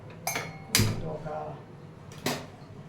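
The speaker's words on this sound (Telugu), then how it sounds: "రసంకి కావాల్సిన గిన్నె పెట్టేస్తున్నాను" A cooking pot for tomato rasam is set down on a kitchen surface, giving a few sharp metallic clanks: two close together at first, then another a moment later.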